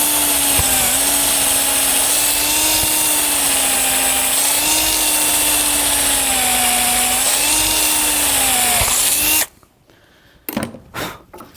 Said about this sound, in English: I'm using a nice little brad point drill here, and I'm going to drill it all the way through to the other side.